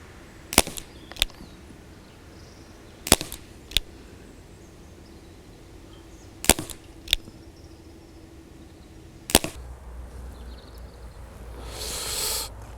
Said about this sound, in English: The shot is more of a thud with the pellets